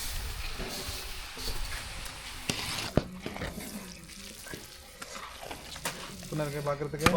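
Scraping and stirring as ghee-roasted semolina is mixed into a pot over a bubbling, hissing background, with a few clinks of a utensil and faint voices near the end.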